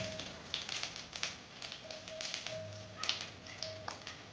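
A bay leaf crackles and spatters in hot oil alongside whole cumin for a Rohu fish curry with drumsticks. The sizzle is steady and close, with small pops and taps.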